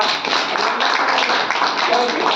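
Steady, dense applause from an audience at a business leadership event, loud and continuous throughout with no pauses.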